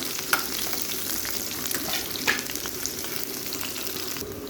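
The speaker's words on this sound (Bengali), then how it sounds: "পেঁয়াজ কুচিটা দিয়ে একটু ভেজে নেব।" Chopped onion fries in hot oil with a dense, steady sizzle, joined by a couple of clinks and scrapes as it is stirred in the pan, with no talking.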